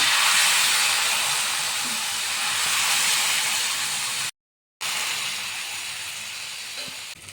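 Jowar flour batter for dhirde sizzles on a hot pan, a steady, loud hissing that breaks off briefly midway and then resumes.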